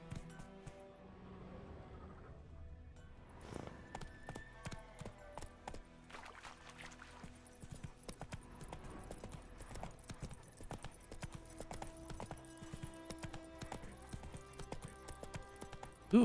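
The horse Roach gallops in The Witcher 3 video game, a steady rapid clip-clop of hooves running throughout, close and clear, with a brief voice near the start.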